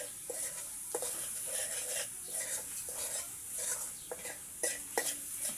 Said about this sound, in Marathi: हे सर्व टाकून घेतलं आहे हे जोपर्यंत मसाल्याला तेल सुटत नाही तोपर्यंत परतून घ्यायचं आहे